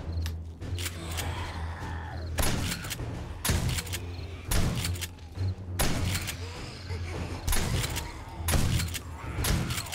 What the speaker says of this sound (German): die Pumpgun ist schon geil